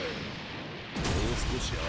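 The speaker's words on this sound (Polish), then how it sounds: "no ten wybuch był konkretny" A sudden loud, booming explosion in Dragon Ball Z: Kakarot cuts in midway and rumbles on with crackling debris, clearly louder than the quieter game audio before it.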